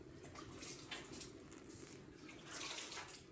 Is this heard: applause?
no